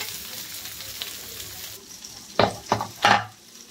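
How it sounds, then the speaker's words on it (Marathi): Okra and peas sautéing in oil over low gas, with a faint steady sizzle that gives way to three sharp stirring scrapes of a spatula in the pan near the end. "हे बघा थोडेसे नरम होईल तोवर आपण परतून घेऊया"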